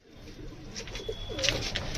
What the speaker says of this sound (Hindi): सारे सारे कबूतर अपने बाहर आ रहे हैं दोस्तों।